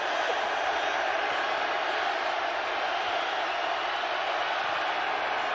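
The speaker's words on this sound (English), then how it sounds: "You hear the crowd getting loud." A football stadium crowd at an XFL game in Seattle swells into a broad, steady roar before a field goal attempt, loud and continuous, with a faint announcer voice underneath.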